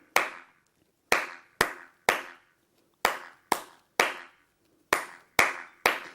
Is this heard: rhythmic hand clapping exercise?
yes